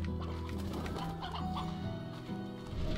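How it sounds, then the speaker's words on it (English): Chickens in the video game Slime Rancher cluck and chatter in short, repeated bursts, fairly close, mixed with steady tonal game background sound. "Oh, I do hear chickens, though."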